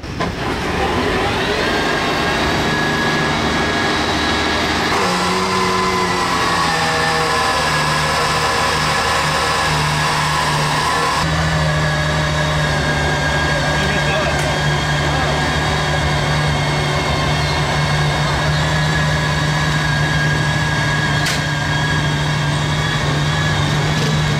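An Aston Martin Valkyrie Spider runs as a loud, steady engine drone that shifts pitch a few times while the car is being unloaded. A voice can be heard speaking over it.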